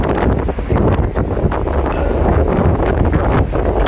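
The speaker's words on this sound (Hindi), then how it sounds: "तेज़ हवा चल रही है।" Strong wind at sea aboard a ship roars across the microphone in heavy, rumbling gusts, with a constant rushing background of open water; no voices.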